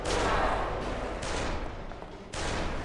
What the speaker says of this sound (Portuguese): eu tô errando todos os tiros